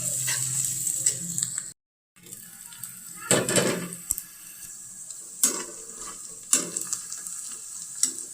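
Chopped onions sizzle and fry in a hot pan after cumin seeds, with a steady crackling hiss, brief stirring scrapes, a short cut-out and louder bursts of sizzle as they are moved around.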